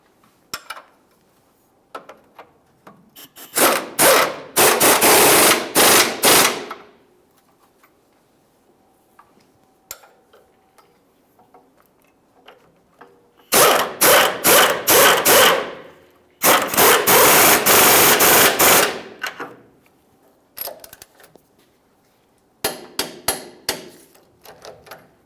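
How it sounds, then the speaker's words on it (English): A torque wrench tightens the lower control arm mounting bolts on a 1999-2006 Chevrolet Silverado, giving close, sharp bursts of rapid ratcheting clicks in several separate runs with quiet pauses between them. "Just go ahead and snug these and then torque each of them to"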